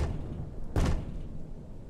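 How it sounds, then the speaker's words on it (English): A door in a FNAF open-world horror video game gives a single loud slam or thud, standing out briefly against steady background rumble and ambience. "That's door."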